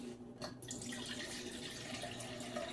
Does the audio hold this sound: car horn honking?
no